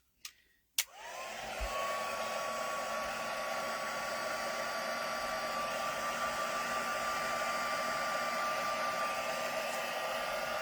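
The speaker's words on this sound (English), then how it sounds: "I think I will give that a blast with my heat gun." Heat gun blasting to dry Distress Oxide ink on a handmade card: a loud, steady whooshing roar with a whine, starting after a click and running continuously up close.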